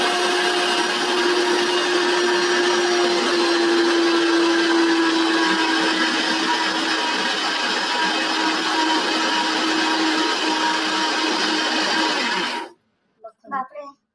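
A household mixer grinder run for the first time in seven or eight years, a loud steady motor whine for about twelve seconds before cutting off, followed by brief voices.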